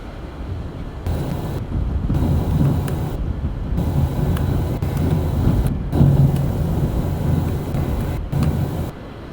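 A Pratt & Whitney jet engine in Microsoft Flight Simulator 2020 gives a loud, steady roar with a deep rumble, and the sound briefly thins at several points, as if it is being cut out.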